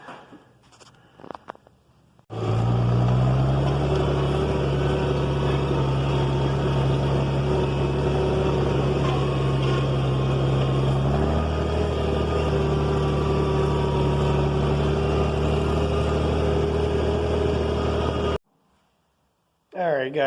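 A Farmall 460 tractor engine idles steadily and loudly close by, a continuous low rumble that shifts pitch slightly midway, with the heat houser cab fitted and no talk over it.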